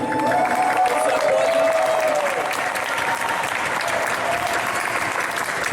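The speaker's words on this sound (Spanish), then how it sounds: "por favor, un aplauso para la Legión." A dense, steady wash of audience applause fills a toy convention hall in Mexico City, sustained and loud throughout, honoring costumed members of the 501st Legion, with a few whistles and cheers rising briefly above the clapping.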